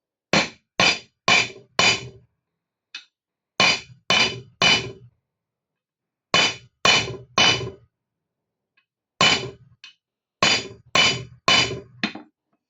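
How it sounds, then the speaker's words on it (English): Sharp metallic hammer strikes on a metal loading pin in bursts of three or four, loud and close, separated by short silent pauses. "every time you hammer it a little bit, you need to check it"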